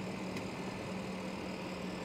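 A 4.8-litre V8 engine in a 2008 Porsche Cayenne GTS idles after starting with a low, even rumble, fairly quiet and unchanging throughout.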